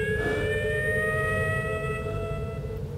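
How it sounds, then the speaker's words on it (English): Ambulance siren in the video game They Hunger, a loud sustained wailing tone with steady harmonics holding for several seconds over a low rumbling background, no voices. "That ambulance."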